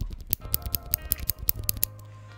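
A budget Chanchao mechanical keyboard with blue switches clicks in a quick run of about a dozen sharp, bright, high-pitched keystrokes, close and alone, before stopping.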